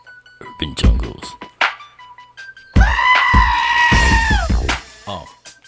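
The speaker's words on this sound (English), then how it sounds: "Oh, got my screaming goat." A goat lets out a single loud, drawn-out human-like scream lasting nearly two seconds, surrounded by bursts of people talking before and after.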